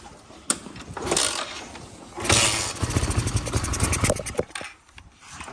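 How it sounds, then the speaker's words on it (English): A Suzuki LTZ400 ATV engine cranks in short bursts, then catches and runs roughly for about two seconds before dying away. Close and fairly loud, with no talking. "Let's see if she'll crank."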